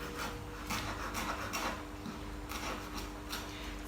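A knife repeatedly shaves through a small pile of chopped fresh basil on a cutting board, making soft, rhythmic scraping strokes close up and fairly quiet.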